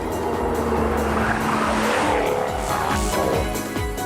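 A Jaguar F-Type R Coupe V8 engine roars loudly and continuously on a track, its pitch rising and falling as the throttle is worked, with tires squealing at times.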